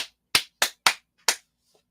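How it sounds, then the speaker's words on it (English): Hands clap five times in a quiet room, sharp and close, in an uneven rhythm with short gaps between claps and a faint tap at the end. "I'm gonna clap my hands."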